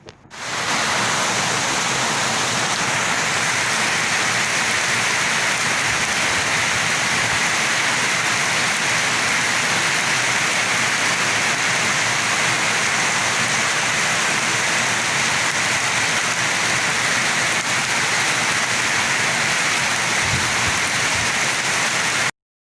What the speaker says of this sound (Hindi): वतन अज़ीज़ में हालिया मानसून बारिशों का ये तकरीबन छठा स्पेल शुरू हो चुका है